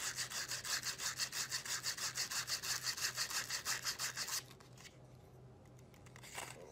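A wooden wand being sanded by hand with soft sandpaper: a steady, close, rhythmic back-and-forth rasp of about two strokes per second, stopping partway through and leaving a quiet room with a faint handling knock.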